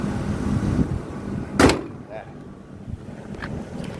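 A single solid thump as the bonnet of a 2001 Mercedes-Benz W203 C240 Elegance is shut, a sharp loud impact standing out from quiet background rumble, followed by faint rattles.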